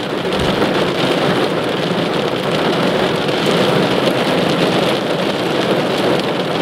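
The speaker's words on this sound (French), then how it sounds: "Je sais pas si vous l'entendez, l'orage claquer, mais c'est fou." Steady heavy rain from a thunderstorm drums on a car, heard from inside, with a dense continuous wash; thunder may rumble within the roar, but no distinct crack stands out.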